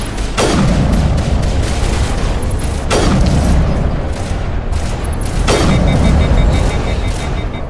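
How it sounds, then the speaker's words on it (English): Rockets fired by enemies in Mass Effect 1 explode in three loud, heavy booms roughly two and a half seconds apart, each trailing off into a rumbling roar over a constant din of battle. "they're shooting rockets"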